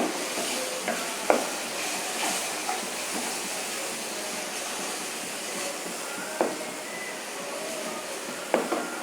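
Cumin and chilli powder stirred into hot oil in a pan for beef rezala, a faint steady sizzle with a few sharp spoon scrapes scattered across, quiet and close with no speech.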